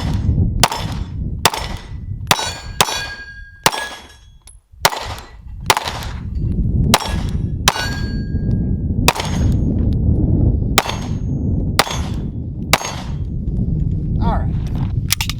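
Repeated pistol shots from a Sig P320 fitted with a gas pedal ring out against steel dueling tree targets, sharp loud cracks in uneven bursts with metallic pings between them, over steady outdoor range background.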